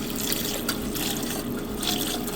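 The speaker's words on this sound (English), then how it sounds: "And now slowly we're gonna add in our milk." Milk is poured slowly into a cooking flour roux for a Portuguese creamy baked cod, giving a steady, close liquid trickle and gentle sizzle that runs throughout with no talking.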